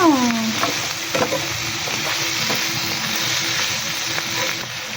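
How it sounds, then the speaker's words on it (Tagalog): Sautéed bitter gourd gets stirred in a hot pan, a loud sizzle and fry with repeated scraping strokes of the spatula, close up and alone with no talking. "Hahaluin muna natin bago lagay yung itlog."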